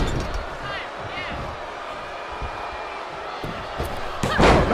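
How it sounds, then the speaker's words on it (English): An assisted fireman's takeover slam in a WWE 2K23 NXT women's tag match lands as a loud body thud onto the mat near the end, with crowd noise and commentary running underneath. "Assisted fireman's takeover"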